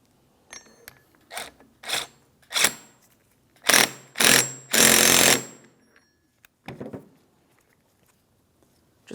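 Bolts are tightened on a power steering pump bracket for a 2003–2008 Toyota Matrix, coming as several short, sharp mechanical bursts, then a longer buzzing run, and one last brief burst, up close with quiet gaps between.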